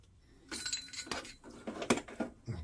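Small metal carburetor parts and an O-ring from a Ruttman mini bike dropped into an ultrasonic cleaner, making a close run of bright clinks and jangles, several distinct hits over a couple of seconds with no talking.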